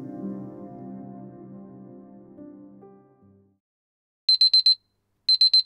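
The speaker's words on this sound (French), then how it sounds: "Le réveil sonne vers 7h." An electronic alarm clock goes off after a low, fading hum: quick bursts of four high, shrill beeps, repeated twice with a pause between, loud and close.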